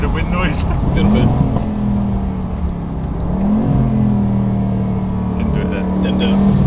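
Aston Martin DB12 S driving with a window partly down, its engine droning steadily with a couple of rising revs as it pulls through the gears, wind rushing past, and people talking over it inside the cabin.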